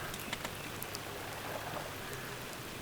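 Rain falls steadily at Soyang Lake during a fishing outing, a soft even patter of drops with no voices and a few slightly louder drips.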